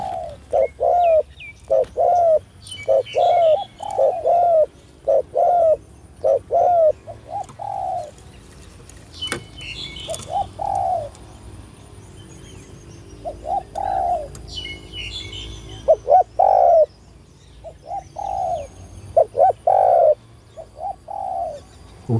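Repeated soft, mellow cooing calls from a spotted dove, each a short phrase of a few notes, recurring steadily with faint chirps in the background.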